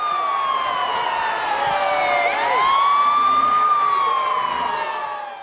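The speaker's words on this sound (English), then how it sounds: "the sound of a siren slowly got louder and louder, and suddenly an ambulance is barreling into the arena" An ambulance siren wails with a steady rising-and-falling tone, swelling gradually louder as the vehicle approaches, alone without talk.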